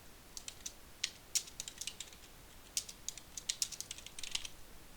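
Quiet clicks from a computer keyboard as team names are typed during an esports match broadcast, with irregular clusters of light keystrokes and short pauses.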